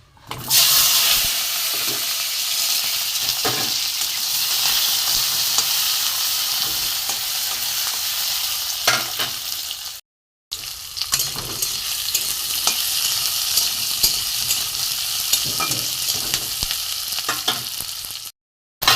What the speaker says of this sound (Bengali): এখানে টমেটো এখানে আদা রসুন সব একসাথে আমি নিয়ে ভেজে নেবো